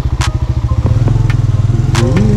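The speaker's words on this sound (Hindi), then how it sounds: "मोटरसाइकिल छाव में खड़ा करता" A motorcycle idles up close near Khaplu Fort in northern Pakistan as it is parked in the shade, its loud rapid engine thump shifting pitch briefly, with a few clicks and clatters and no voices.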